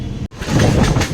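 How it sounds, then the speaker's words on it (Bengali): A local train on the Basirhat to Sealdah line pulls into Bhasila station with a loud, close rumble that briefly drops out before the rolling noise returns. "হোশিয়ার থেকে একুশ কিলোমিটার পথ চলে ট্রেন এখন এসে পৌঁছালো ভাসিলা"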